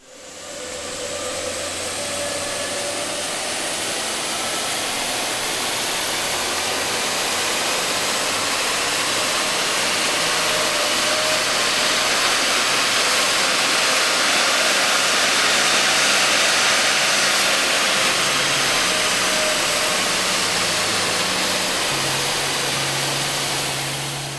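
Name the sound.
car engine running on a dyno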